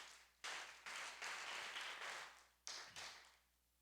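Congregation applause for the Lord at a church service, heavy bursts of hand clapping that surge in several waves, each swelling then fading before a fresh burst, fairly close and loud.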